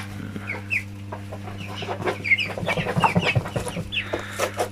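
Broiler chickens, 25 days old, cluck and chirp in a busy, overlapping chorus over a steady low electrical hum, close by and moderately loud.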